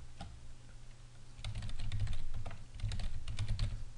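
A password typed on a computer keyboard: a quick run of soft, close key clicks in two bursts over a low steady hum, with no voices.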